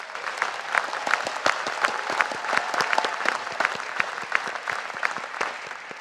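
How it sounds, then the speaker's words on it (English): A large audience at a graduation ceremony applauds the class of 2023, with steady, fairly distant clapping carrying individual sharp claps throughout and no talk. "Let's all give the class of 2023 a round of applause."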